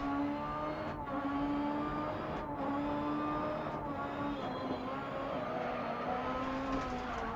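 A Super 1600 rally car's engine in the DiRT Rally racing game accelerates and revs hard, with gear changes briefly cutting the sustained loud drone during a rallycross event.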